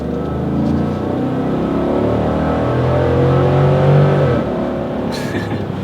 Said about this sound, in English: I'm about to do a quick little acceleration